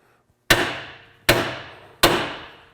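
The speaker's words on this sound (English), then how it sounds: "we're going to try and hit these with a hammer and see if we can knock them loose" Three sharp metallic hammer blows on a truck's steering knuckle joint, struck to knock it loose while fitting a 6.5-inch lift kit; evenly spaced, each loud crack ringing out and fading.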